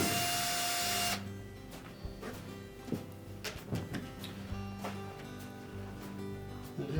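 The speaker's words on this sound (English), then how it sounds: "we'll remove these 3 screws across the back of that main top" Screws being backed out of the rear edge of a Whirlpool washer's main top with a power driver, a loud whirring burst at first, then scattered clicks, taps and metallic clatter close by.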